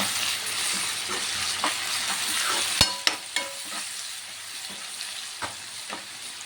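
Onions and green chillies with a pinch of salt fry steadily in a pan, a continuous close sizzle broken by a few sharp clinks and scrapes of a stirring spoon, with no talking.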